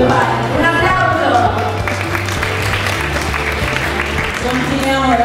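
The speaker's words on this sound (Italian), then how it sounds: "Un applauso!" Applause and a lively crowd fill the space at a fashion show and awards event, steady clapping with a few cheers, while music or a low hum continues underneath.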